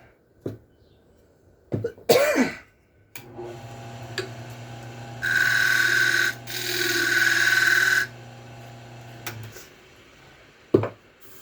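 Two steady stretches of abrasive rasping, like sanding wood, run back to back, preceded by a few knocks and scrapes and a motor hum.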